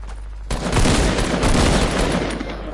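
AR rifle gunfire in a video game: a dense, continuous burst of rapid shots that runs almost the whole clip, loud and close after a short quieter opening.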